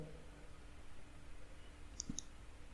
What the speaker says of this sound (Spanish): daremos clic en el botón exportar